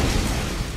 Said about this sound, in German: Explodiert.